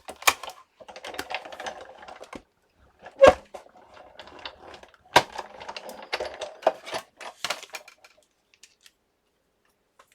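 Scissors snipping out a small paper piece, a run of close, crisp little cuts and rustles that comes in short bursts with quiet pauses between.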